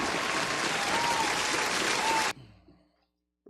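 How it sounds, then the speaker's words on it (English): Steady, loud applause from a crowd at a radio show fills the first two seconds and more, then cuts off abruptly and leaves near silence. "And them applause is coming too."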